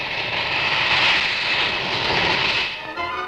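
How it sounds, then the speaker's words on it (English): Loud roaring whine of a Hawker P1127 jet powered by a Bristol Siddeley Pegasus turbofan with swiveling nozzles at a 1960s Farnborough airshow, a sustained high hissing blast that eases off near the end. "The revolutionary Bristol Siddeley Pegasus turbofan, with its swiveling nozzles,"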